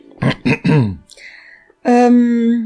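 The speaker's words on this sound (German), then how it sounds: "Räusper." A person clears their throat in a short burst of rough, guttural rasps, followed by a brief hum and a sustained voiced tone, loud and close.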